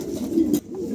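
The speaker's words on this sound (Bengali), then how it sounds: "খুবই চমৎকার একজোড়া কবুতর" A pair of Lahori pigeons coo close by, giving soft, low, throaty rolling calls that swell and fade over under a second, with no other sounds.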